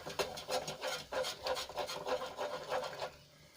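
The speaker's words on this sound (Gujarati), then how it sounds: "અને સરસ રીતે આપણે વેલણની મદદથી બધું સરસ રીતે મિક્સ કરી લઈશું" A wooden rolling pin stirring wheat flour, white sesame and soda into boiling water in a pot for khichiya papad: about ten close, rhythmic rubbing and scraping strokes that stop near the end.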